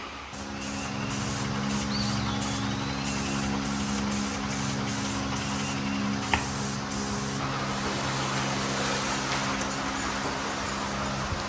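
Spray gun applying paint to a 1999 DuraCraft 1648 bass boat, a steady continuous hiss with a low mechanical hum underneath, held at close range without pause and no talking.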